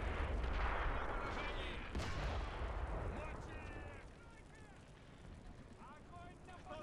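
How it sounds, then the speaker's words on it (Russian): A tank is knocked out under artillery fire in the World War II strategy game Behind Enemy Lines 2, set in Operation Citadel, July 1943: a loud booming blast and rumbling explosions fade into scattered battle noise, with brief voices toward the end. "Сбоку был подбит танк."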